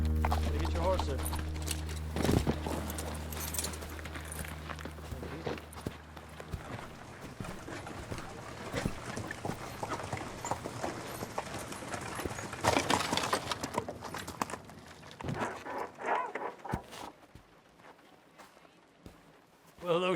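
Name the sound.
horses walking, hooves clopping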